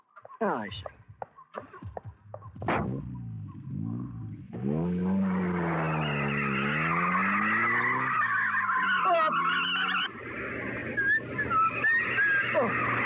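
A car is driven fast in a Hindi film scene, with loud, sustained engine revving that swells and sweeps in pitch and tyres skidding with a shrill squeal late on.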